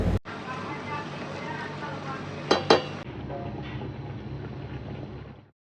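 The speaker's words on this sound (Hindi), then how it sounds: "तो एक साइड में हम गोश्त और मसाला भूनेंगे और दूसरी साइड में हम ऑनियंस को फ्राई कर" Mutton and masala frying on one side of a pan with onions on the other for spicy mutton nihari, a steady close sizzle with two brief metal utensil clinks midway.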